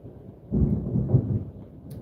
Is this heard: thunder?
yes